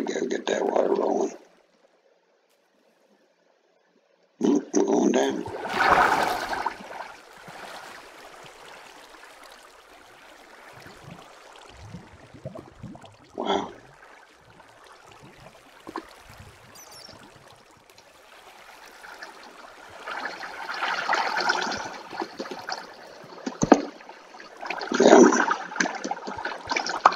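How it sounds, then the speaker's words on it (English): Rushing, flowing water in a video game comes in bursts, with a short silent gap near the start and a swelling, steady stream toward the end. "Get that water rolling."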